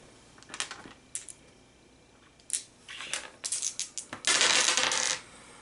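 Dice for a Pathfinder tabletop card game, Skull and Shackles, rattling and clattering on a hard surface in several short bursts, ending in a longer tumbling roll, close by with no talking.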